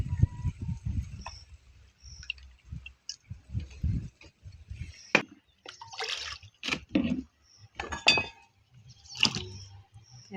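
Ingredients for Kenyan pilau being rinsed by hand in water in a village kitchen, with soft splashes, drips and light clinks of a container coming in short bursts, close and fairly quiet, mixed with low rustling handling noises.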